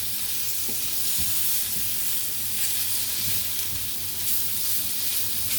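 Sausages browning in a frying pan give a continuous close sizzle and hiss, with occasional soft crackles and pops and no talking.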